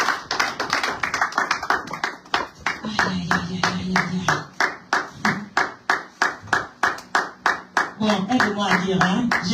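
A church congregation claps in a steady rhythm, the sharp hand claps loud and close, with voices joining in beneath them partway through.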